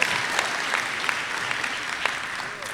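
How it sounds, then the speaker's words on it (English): Audience applause at a high school graduation ceremony, a steady wash of clapping from a large crowd that continues throughout, fairly loud with a few sharper claps standing out. "Let's give him a big round of applause for that"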